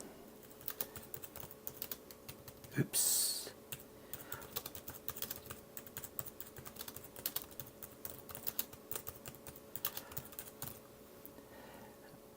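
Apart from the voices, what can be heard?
typing on Oscal Pad 10 tablet keyboard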